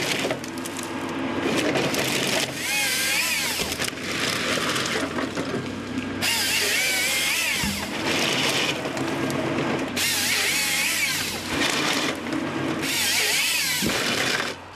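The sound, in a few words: timber processor felling, delimbing and cutting trees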